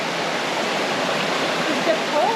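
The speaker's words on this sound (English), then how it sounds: "that is the waterfall" A waterfall near Tuy Hòa, Vietnam, roars as a steady, dense rush of falling water close by, filling the whole clip with no breaks.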